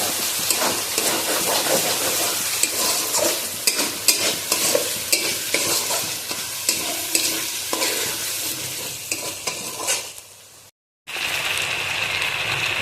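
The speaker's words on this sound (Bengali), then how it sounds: "টমেটো থেকে যে রসটা বেরোবে, ওই রসটার মধ্যেই আদা রসুনগুলো ভালো করে কষা হয়ে যাবে" Chopped tomatoes fry with ginger and garlic in a pan for a kacchi chicken kosha, with a loud, steady close sizzle and repeated stirring scrapes, then a brief silence before the frying hiss resumes.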